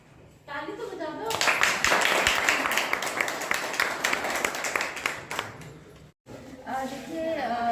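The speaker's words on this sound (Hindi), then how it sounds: "ताली तो बजा दो।" Audience claps at a district-level Dalit women's rights forum in Bodh Gaya, with a burst of many hands starting after a brief spoken phrase, holding loud and dense for several seconds, then breaking off as talk resumes.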